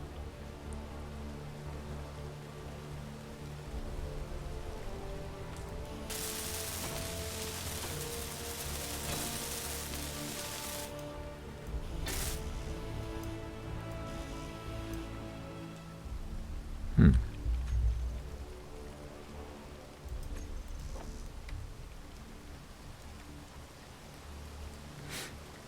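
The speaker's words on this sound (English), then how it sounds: "And that's rain." Rain falling in the video game Space Engineers, a steady wash of hiss across the whole stretch, swelling louder for a few seconds midway, with a sharp thump near the end.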